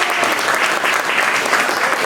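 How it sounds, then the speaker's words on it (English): A short, dense burst of audience applause at a gallery event, the Unbound 2019 gathering at the Main Street Gallery in Richmond, Virginia, steady clapping throughout. "Let's give him a round of applause."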